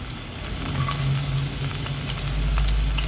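Chopped shallots and garlic frying in coconut oil for a ladyfinger curry, giving a steady, close sizzle with a low rumbling bed that swells slightly toward the end, with no voices over it.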